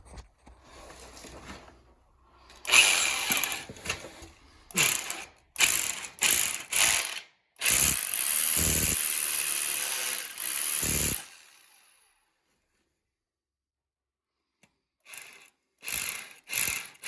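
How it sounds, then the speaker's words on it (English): A small drill runs during interior foundation repair work, with several short buzzing bursts and one longer, steady run, then quiet before a few more brief bursts. "Little baby drill. Can't be as aggressive with it."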